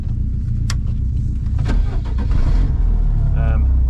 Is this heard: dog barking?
no